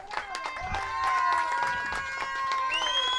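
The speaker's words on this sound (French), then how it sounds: "On peut les applaudir très fort." An audience at a flamenco school's open day claps for the dancers, with sharp close claps under excited cheering and high shouted voices.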